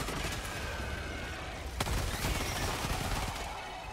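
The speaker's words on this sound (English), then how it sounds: "Machine pistol's so good." Dense, steady gunfire and battle noise from the video game Helldivers 2, including machine pistol shots, with a loud blast partway through and continuous rattling volleys throughout.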